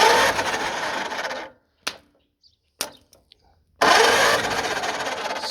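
A 1959 flathead engine being tested after rebuilding, with its starter turning the motor over in a loud rasping burst, then quiet broken by a few clicks and knocks before the cranking resumes.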